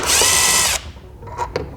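Power tool whirring loudly for under a second while unbolting a 10mm bolt on a Nissan Armada, then cutting off, followed by faint clicks and handling sounds.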